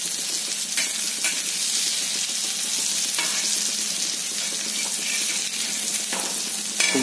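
Wam fish (eel) frying in hot oil, a loud dense sizzle running steadily throughout, with a few faint clinks of a utensil against the pan.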